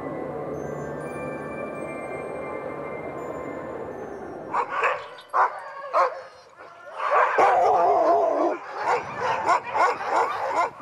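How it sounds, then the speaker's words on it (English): Sled dogs, mostly huskies of a Siberian breed, bark and yip in Norwegian Lapland while waiting for dinner, a steady ambient hum first, then a burst of overlapping nearby barks and whines. "The sleigh dogs are waiting for their dinner."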